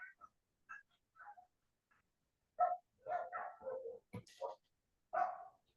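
A neighbour's dog barks somewhere off in the distance, a faint, scattered series of short barks and yips with irregular gaps between them, heard indoors.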